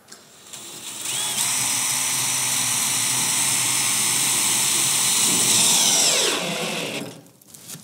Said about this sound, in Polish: pokaż nam jeszcze, jak się przykręca, przynajmniej tam z jeden, dwa wkręty